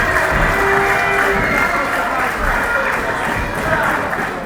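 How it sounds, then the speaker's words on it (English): A professional wrestling crowd roars and cheers during a tag-team match, a dense, sustained wall of arena noise with a commentator talking over it the whole time. "The crowd willing on Riddick Stone to make that tag."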